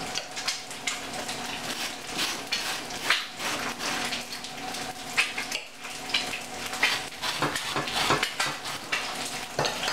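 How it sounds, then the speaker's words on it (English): Knife scraping butter across toast in a kitchen, with steady rough scratching strokes repeating throughout, close and fairly loud, while a faint sizzle of cooking continues underneath. "let's butter our toast"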